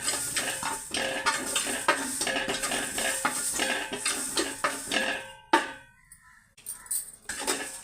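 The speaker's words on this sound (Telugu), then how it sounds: "మెంతులు, ఆవాలు ఇవి మనం కొద్దిగా దోరగా వేయించుకోవాలి." Fenugreek and mustard seeds crackling and rattling in a hot pan with clinks of a spoon stirring, then a sharp knock and brief quiet before more scraping.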